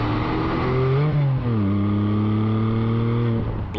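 Exhaust of a 2020 Porsche 718 Boxster GTS 4.0 flat-six, a loud, close engine note that rises, dips briefly and then settles into a steady, droning pitch held for a few seconds.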